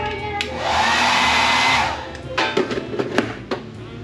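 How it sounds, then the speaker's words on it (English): A hair dryer blows with a steady whirring roar for a couple of seconds, then switches off, followed by some light clattering handling sounds nearby. "Hair dryer."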